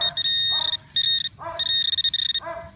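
A metal detector gives a bright, steady electronic tone in three long pulses, separated by short gaps, over faint background noise, ringing on a buried coin like a quarter.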